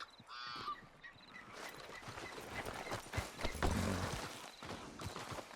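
Horse hooves clip-clopping at a steady walking pace in Red Dead Redemption 2, moderately close, with brief honking bird calls early on and faint ambient outdoor noise.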